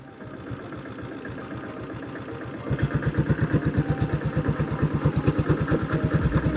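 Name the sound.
1976 diesel Bullet motorcycle engine running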